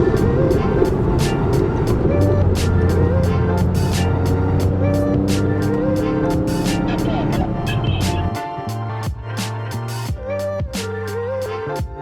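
A straight-piped, air-cooled Porsche 993 drives past at an outdoor Porsche show, its loud, raw exhaust note holding steady and then shifting pitch as it passes close by, with voices murmuring underneath.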